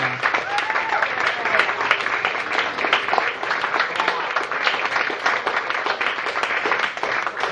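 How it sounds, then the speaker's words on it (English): An audience at the Songs of Art evening in Latrobe, Pennsylvania, gives a dense, sustained round of applause, many hands clapping steadily and loudly throughout, with scattered voices mixed in. "give everybody that participated in the Songs of Art tonight a big old round of applause"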